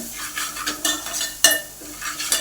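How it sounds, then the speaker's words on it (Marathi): Spoon stirring chopped coriander, salt and sesame seeds together in a metal pot for kothimbir vadi, scraping clinks and rustles at close range with a faint sizzle underneath. "आणि तीळ हे सगळं एकत्रित करून घेऊया मिक्स करून"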